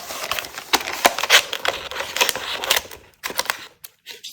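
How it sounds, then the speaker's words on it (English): Scissors snip through paper cut into a rectangle for a paper gift bag, a run of crisp, close cutting strokes with short pauses that trails off near the end. "Just going to cut one rectangle there, and then just cut that in half"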